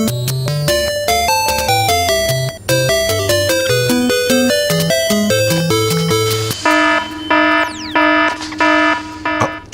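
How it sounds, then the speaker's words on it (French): A rapid electronic beeping pattern of stepped tones plays continuously, shifting to a higher, pulsing repeated tone near the end. "tu sais ce que c'est cette alarme ?"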